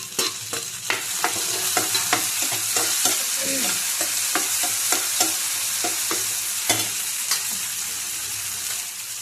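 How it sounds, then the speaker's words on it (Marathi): Chopped tomatoes tossed into onions frying in a pan for a homestyle village pea usal, loud steady sizzling with repeated sharp clicks of a spoon scraping and stirring throughout, close up and with no talk. "आता हे टोमॅटो टाकू आता याच्यात"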